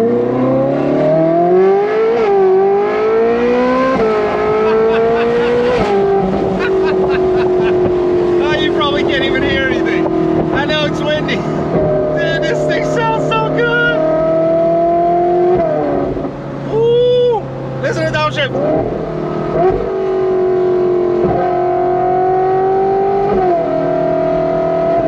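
A Ferrari sports car engine revs and roars continuously up close, pitch climbing and settling through gear changes, with brief sharp blips near the end.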